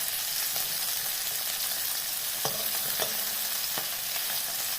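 Small puti fish frying in hot oil with sesame, a steady sizzle with a few soft clinks of stirring, close by and alone without talk.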